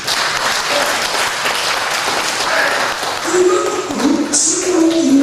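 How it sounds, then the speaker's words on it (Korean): Congregation applause at a Sunday church service, a steady wash of clapping throughout, with voices and brief musical tones rising over it toward the end. "감사의 박수 한번 드리겠습니다."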